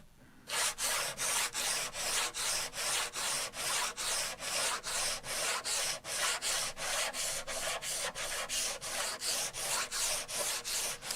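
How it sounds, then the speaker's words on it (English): A razor blade scraping stuck chunks off sandpaper, a rapid run of regular rasping strokes, about two or three per second, close and steady for roughly ten seconds with no talking. "Just scrape off the chunks that are sticking to my sandpaper."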